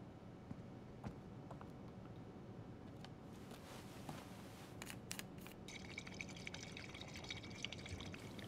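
Quiet trickling and pouring of water as bottles are filled at a stream in Life is Strange 2, steady flow with small drips and splashes close by, no voices.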